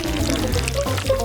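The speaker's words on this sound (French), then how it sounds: "Je verse le miel dans un verre." Honey pours from a container into a glass, a soft, thick continuous trickle close up lasting just over a second, with no talking.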